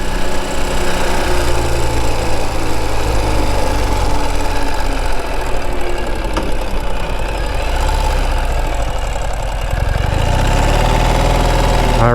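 A Ural Gear Up 2WD adventure sidecar motorcycle drones steadily while riding, its engine giving a close, constant, knocking thrum that shifts pitch slightly near the end.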